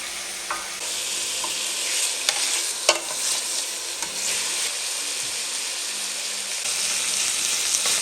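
Meat added to a hot pan of salted onions for cassoulet, sizzling and hissing steadily with scattered pops and clicks of stirring, close and loud with no talk.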